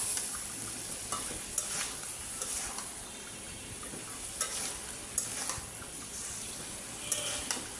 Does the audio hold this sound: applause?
no